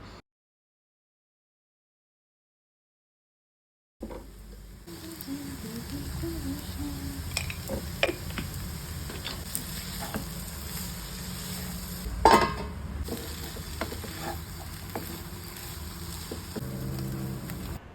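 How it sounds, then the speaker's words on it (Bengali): Cabbage and green peas frying lightly with mixed vegetables in a pan give a low, fairly faint sizzle with a few stirring clatters, beginning after about four seconds of silence. "ভাজা ভাজা হয়ে গেলে দিয়ে দিলাম বাঁধাকপি আর মটরশুঁটি তারপরে সমস্ত সবজিগুলো হালকাভাবে ভাজতে ভাজতে সেদ্ধ করে নেব"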